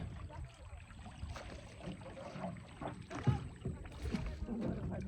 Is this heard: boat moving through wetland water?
yes